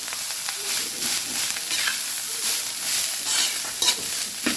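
Leftover garlic fried rice (sinangag) is stirred and tossed in a pan, giving a steady broadband sizzle with scraping spatula strokes and occasional sharper clinks, loud and continuous throughout.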